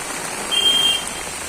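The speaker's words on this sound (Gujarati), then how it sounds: "રાજકોટ જિલ્લાના જેતપુર શહેરની અંદર જે મેઘરાજા જે મન મૂકીને જે વરસી રહ્યા છે" Heavy monsoon rain pours down in Jetpur town, Rajkot district, a steady dense hiss that fills the whole stretch, with a brief thin tone rising above it midway.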